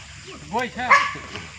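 A couple of short, sharp dog barks or yips ring out close by in a jungle during an outdoor party with friends, with people talking around them.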